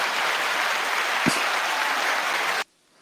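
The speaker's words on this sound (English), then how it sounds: "You didn't realize you were getting applause too" Steady crowd applause greeting a guest being introduced, a dense continuous clapping wash that runs loud for about two and a half seconds before stopping abruptly into near silence.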